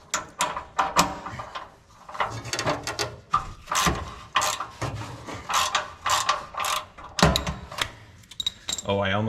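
A ratchet fitted with an oxygen sensor socket works to loosen the O2 sensor on a Lotus Elise or Exige, giving close, irregular clicking and clattering bursts with metallic rattles throughout.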